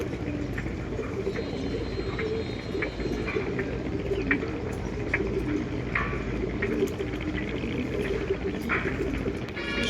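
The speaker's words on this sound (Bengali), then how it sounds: "সবগুলো কবুতর নেমে গেছে অলরেডি।" Pigeons coo softly and repeatedly at a loft, with scattered chirps and wing or foot noises over steady background noise, heard throughout.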